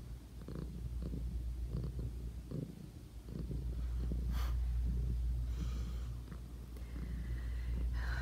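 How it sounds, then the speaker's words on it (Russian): Loud, close purring rumbles continuously in a low, throaty rhythm, with occasional soft breathy snorts. "Если вы слышите такое мурлыканье очень громкое"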